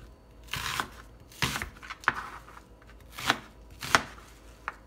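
Vegetables for ugali fufu being cut coarsely with a knife on a board, heard as a series of sharp, close chopping strokes in an uneven rhythm with short pauses between them, and no talking.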